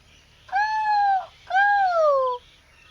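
Person imitating a peacock's call, two drawn-out, wailing tonal cries in a row, each sliding downward at the end, close and clear against a quiet background.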